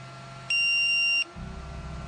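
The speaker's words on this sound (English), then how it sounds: "When he triggers this alarm by scrunching his cheek, it means he's choking on his own saliva or mucus" Medical alarm for an ALS patient, triggered when he chokes on saliva or mucus: one steady electronic beep tone lasting under a second, clear and close over a low room hum.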